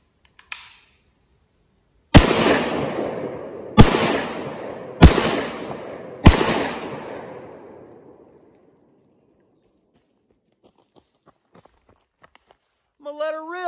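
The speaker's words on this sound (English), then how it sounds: "Let's see what 10 rounds out of the 10 round magazine will do." An SDS Lynx 12 gauge shotgun fires four heavy, close blasts outdoors, roughly a second or so apart, each ringing out in a long fading tail before silence; a brief voice follows at the end.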